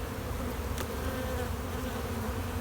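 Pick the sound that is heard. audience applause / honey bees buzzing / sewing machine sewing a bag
honey bees buzzing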